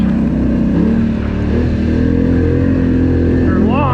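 Polaris Sportsman XP 1000 ATV engine pulling hard under heavy throttle on bumpy hill trails, a steady loud drone that rises in pitch near the end.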